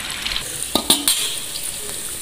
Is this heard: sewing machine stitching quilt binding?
no